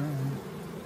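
Bees buzzing around neat wooden beehives in a village near Zaamin, Uzbekistan: a low, steady hum close by for a moment, then fading into a faint background drone.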